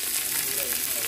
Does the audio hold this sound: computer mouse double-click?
no